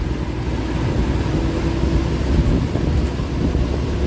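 Light drizzle falls on a hilly green stretch along a bus route from Thiruvananthapuram to Madurai, heard as a steady dense hiss under a low rumbling drone, loud and continuous, with no talking.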